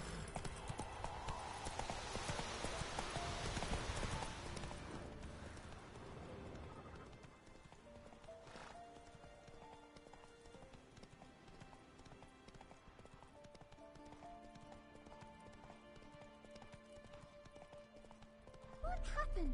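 A horse's hooves clip-clopping at a run in The Witcher video game, loud rhythmic hoofbeats at first, then fading under game music and ambience, with a brief spoken line.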